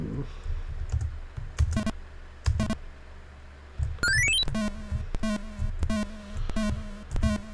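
Computer keyboard keys clack in sharp, irregular bursts while Entombed on the Atari 2600 plays, its electronic bleeps and a rising tone sounding between the keystrokes.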